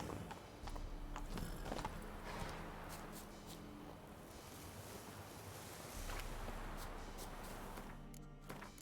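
Roach the horse's hooves clopping in the video game The Witcher 3, scattered hoof beats half buried in a rushing wind-like wash, moderately loud and without talking.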